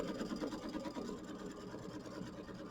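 An embroidery sewing machine stitches the tack-down line on a Kimberbell mini quilt, a continuous rapid mechanical whirring and chattering at steady volume with no voices.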